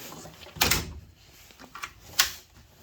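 A metal drawer on a Harbor Freight 56-inch tool box slides and clacks, giving a few short close knocks and rattles, fairly quiet, with no one talking.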